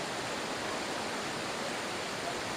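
Water pours continuously over rocks in a forest, a steady, even rushing wash that holds at the same level throughout, with no voices.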